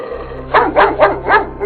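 A large dog, a Rottweiler, gives four close, loud barks in a steady rhythm over a constant low electrical hum.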